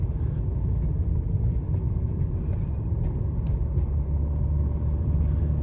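A car drives along a road on a long trip north, its steady engine and tyre rumble continuous and fairly loud throughout, with no voices.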